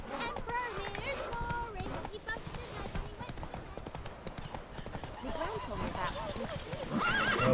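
Roach, the horse in The Witcher 3: Wild Hunt, gallops with steady rhythmic hoof clip-clops and gives several whinnying neighs, with someone talking over the game sounds.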